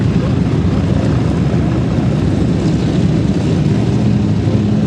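Three Beechcraft 18 twin-engine propeller planes take off at an airshow at La Ferté-Alais, their engines forming a loud, continuous low droning rumble that holds steady throughout.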